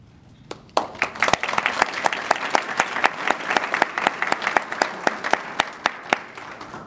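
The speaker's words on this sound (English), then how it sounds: "Please applaud them and recognize them for their hard work." Sustained applause from a graduation audience honoring detention academy cadets, dense steady clapping with sharp individual claps standing out, loud and close, a faint voice at the start.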